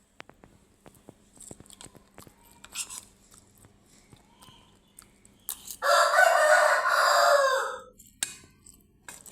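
A rooster crows once, loud and close, in a long drawn-out call lasting about two seconds. Before it come scattered faint clicks and taps against a quiet background.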